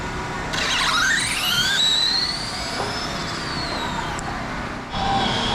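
A radio-controlled drag racing car makes a pass, its motor rising into a loud, climbing high-pitched whine that holds, then cuts out as it finishes, with outdoor crowd noise behind.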